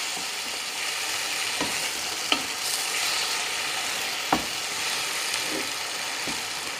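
Chicken masala with cumin and coriander powders sizzles steadily in a pan while being stirred, a constant frying hiss punctuated by a few sharp clicks of the spoon against the pan.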